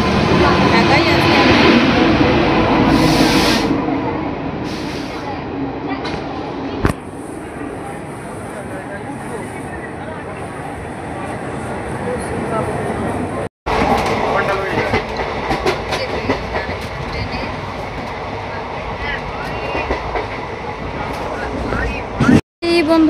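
A passenger train pulls in and keeps running through a railway station, its wheels giving a loud, steady rumble and clickety-clack from start to finish. Voices talk over the noise.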